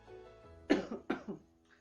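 Two sharp coughs in quick succession, close by and fairly loud, each trailing off with a short rough rasp in an otherwise quiet room.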